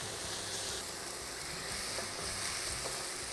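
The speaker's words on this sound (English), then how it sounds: "Allow our aromatics to sweat a little" Fresh chopped thyme and aromatics sweating in a pan for beef lasagna, a steady close sizzle and crackle of frying that continues without a break, with faint stirring scrapes.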